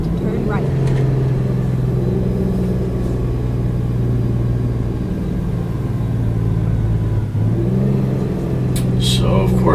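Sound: Western Star truck engine driving, from video game American Truck Simulator

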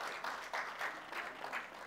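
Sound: audience applause for NTA at an award ceremony

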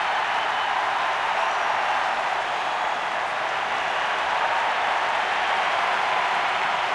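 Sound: baseball crowd cheering a two-run home run

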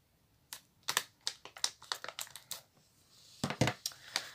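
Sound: scissors snipping a plastic A4 sleeve

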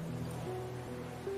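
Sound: ocean waves

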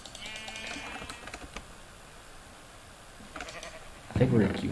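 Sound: sheep bleating from video game Minecraft

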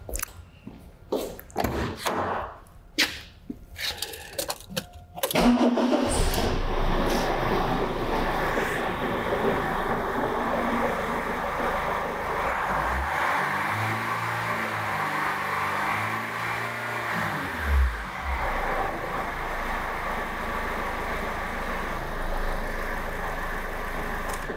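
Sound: diesel car engine running, accelerating then idling

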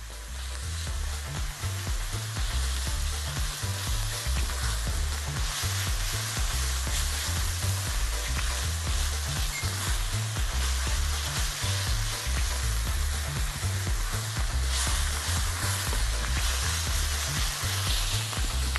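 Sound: onion frying in ghee, stock added and toasted

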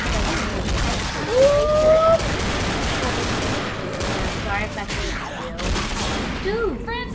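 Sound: gunfire in the video game Left 4 Dead

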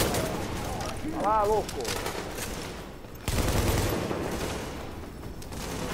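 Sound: gunfire in the video game The Division

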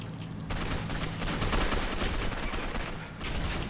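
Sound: shotgun fire in the video game Gotham City Imposters

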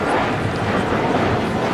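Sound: Sukhoi Su-34 jet aircraft banking in flight

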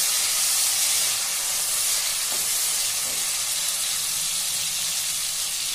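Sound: green chillies sizzling in hot oil

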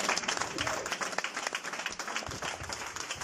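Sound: audience applause

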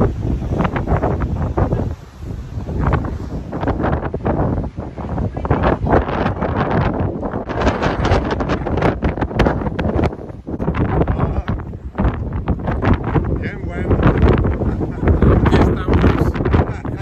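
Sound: strong coastal wind

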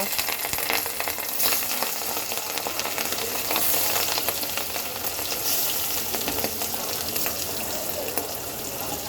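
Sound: catla fish frying in hot oil in a wok

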